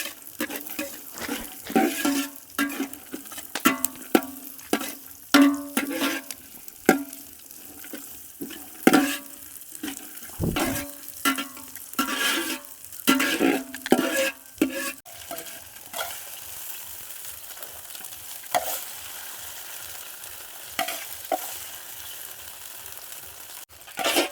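Cashews and raisins fry in a pan for Kerala-style ada pradhaman, with a soft sizzle under repeated scraping and clinking of a spoon stirring against the metal, close and fairly quiet.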